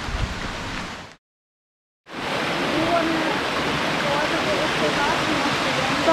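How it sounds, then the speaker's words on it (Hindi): Steady broadband roar of a waterfall in the Black Forest of Germany, heard close and loud, cut by a brief total silence after about a second before the continuous rushing water resumes. "तो ये रहा फर्स्ट वाटरफॉल"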